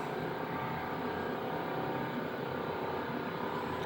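A centrifuge machine's top motor spins up toward 2300 rpm, giving off a steady, continuous whirring hum with a mechanical drone that holds throughout.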